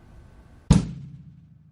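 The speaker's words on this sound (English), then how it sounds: "you will hit the bass drum and the hi-hat at the same time" A single acoustic bass drum and hi-hat struck together on a beginner drum kit: one loud, sharp combined hit with a deep thump and bright cymbal wash that rings out and decays, alone with no talking.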